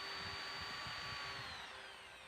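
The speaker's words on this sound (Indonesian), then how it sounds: "jadi dua-duanya kita bor" A power drill whines steadily at high pitch, grinding as it bores into pallet wood, then tapers slightly toward the end; no voices.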